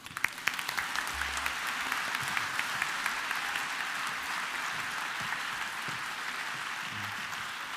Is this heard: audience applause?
yes